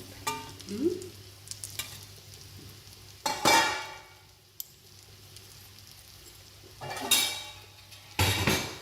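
Spice powder of fenugreek frying in oil over brinjal pieces in a pan, quiet background with intermittent loud bursts of sizzling and scraping stirs, plus occasional utensil clinks.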